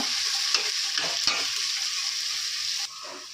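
Coarse cumin for veg pulao fries in a pan with a bright, continuous close sizzle, broken by a few soft scraping strokes of a stirring spoon, with no talk.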